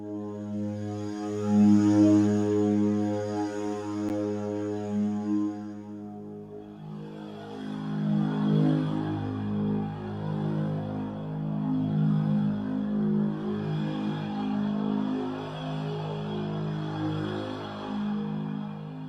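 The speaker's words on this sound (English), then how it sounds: "there we have another cool atmosphere" A synthesized ambient atmosphere preset built in Serum, with sustained, droning tonal layers and a low hum that shifts into a denser, shimmering texture partway through, steady and moderately loud with no voices.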